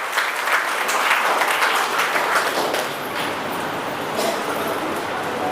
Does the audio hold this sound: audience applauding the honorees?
yes